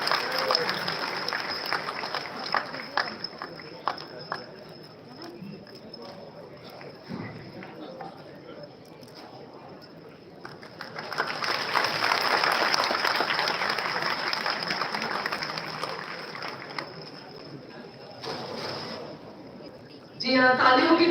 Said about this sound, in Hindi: आपकी जोरदार तालियों की गड़गड़ाहट यहाँ आनी चाहिए